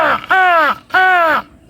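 A human voice imitating a crow's caw: two drawn-out, harsh vocal calls separated by a short pause, loud and close with no other sounds.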